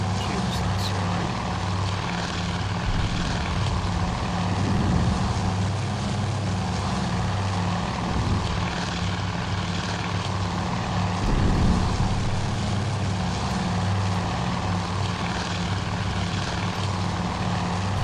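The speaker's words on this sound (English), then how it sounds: "This is the second launch, second wave of torpedo bombers." Aircraft engines drone steadily as a second wave of torpedo bombers launches from a carrier in the naval strategy game Task Force Admiral, a dense propeller rumble sustained throughout with faint voices mixed underneath.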